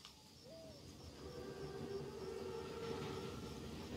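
Armored Panzerzug train in a World War II shooter game: a steady low rumble of rolling wagons with a sustained tonal hum building in and staying loud throughout.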